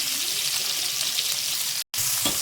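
Cut onions are added to hot oil for a North Indian style ladies finger curry and give a steady close sizzle. A brief silent gap falls near the end, and a faint clink follows it.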